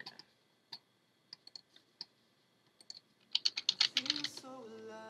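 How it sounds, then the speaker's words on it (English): Someone types on a computer keyboard, starting with sparse, separate keystrokes and then a quick burst of clicks. A short tonal chime follows at the end, with no talking. "Maybe I can just type it in on my Finder."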